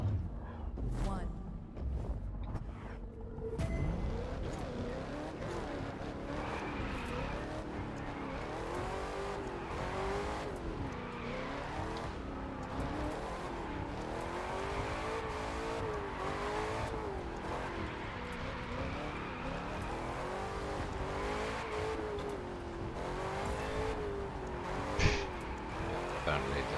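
Race car engine in The Crew 2 revving loud and close, rising and falling through gears, with tire skids and squeals as the car slides; a voice talks over it.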